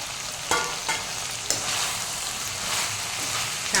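Brinjal and tomato curry sizzling in a hot pan, a steady close frying hiss broken by a few sharp spoon knocks.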